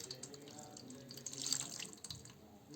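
Warm water poured over a small Laddu Gopal idol during a home Hindu bathing ritual, a soft, close trickle and splash that swells briefly then eases, quiet and steady without talk.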